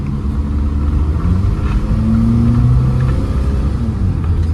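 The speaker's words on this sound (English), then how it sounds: "It's got some get up to it, little exhaust leak, but really ain't too bad." Engine of a 2007 Toyota RAV4 with a small exhaust leak, a close, loud, steady low rumble that rises slightly in pitch as it revs, with no voices over it.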